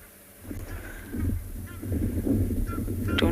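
Egyptian geese honking at a dam on a cold, grey, windy day, with a few short calls rising over steady wind rumble before a louder, more continuous burst near the end.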